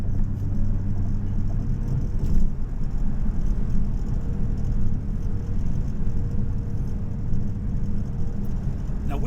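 A 2016 Dodge Challenger Hellcat supercharged V8 drives around town, its deep, steady engine rumble droning throughout with a brief swell partway through.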